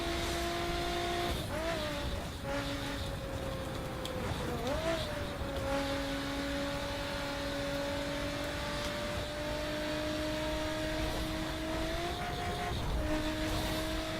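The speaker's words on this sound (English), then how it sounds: "Absolutely love the acceleration on this car." A Lotus Exige in the racing game The Crew drones under steady engine load, pitch rising through each gear with brief dips at the shifts, loud and continuous.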